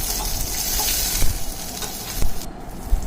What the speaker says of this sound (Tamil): பச்சை மிளகாவும் நல்லா வதங்கினதுக்கப்புறம் நம்ம அரிஞ்சு வச்சுருக்க வாழைப்பூ சேர்த்துக்கணும்